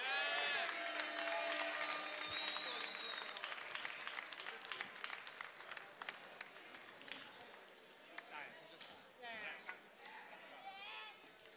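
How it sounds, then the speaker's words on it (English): An audience at a CUFF 17 debate between Dev Bharwani and Marc Sargent breaks into sustained applause, loud at first and slowly thinning, with cheers and voices mixed in over the clapping. "Let's give them a round of applause,"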